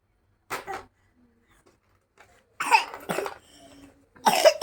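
A young boy coughs close by, three bursts of harsh, rapid coughs separated by quiet pauses.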